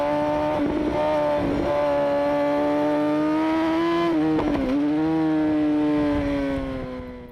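Pro sportbike racing engine at Shannonville, loud and close, holding a high steady whine that dips and rises as the throttle rolls off and back on through a series of turns.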